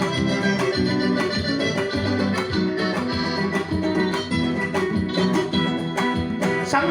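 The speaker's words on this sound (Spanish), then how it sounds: "Este guayno, nuevecito de primicia del compositor" New Arequipa huayno song, a full band playing a lively, steady rhythm with strummed strings and a dense, continuous mix at even loudness throughout, no talking over it.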